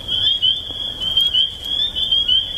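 A chorus of spring peeper frogs calls outdoors, a continuous high shrill peeping that stays steady and fairly loud throughout, with no voices.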